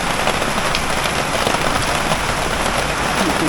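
Rain falls steadily outdoors at a carp fishing spot by a wide lake, a dense close hiss of drops on surfaces throughout.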